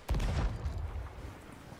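Ship cannons fire in the Sea of Thieves video game as a quick deep boom that rumbles and fades over a second or two.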